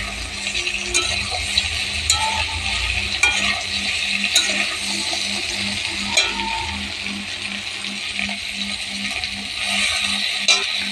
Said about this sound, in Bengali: আর একটু আলু পটলটাকে আরেকটুখানি ভেজে নেব